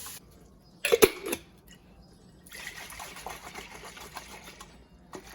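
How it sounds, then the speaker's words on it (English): A burst of water sloshing into a glass pasta sauce jar, then a longer stretch of rattling, swishing shaking as the last of the sauce is rinsed loose, fairly close and quiet. "measure out a cup and a half of water in this, pour it in here, shake this around"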